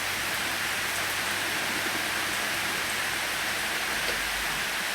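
Heavy rain pours steadily outside a house, a dense, unbroken hiss that stays loud and even throughout with no voices.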